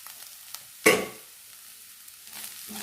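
Jackfruit shreds stirred in a pan for thoran give one sharp scraping clatter, then a faint low sizzle with a few quiet scrapes near the end.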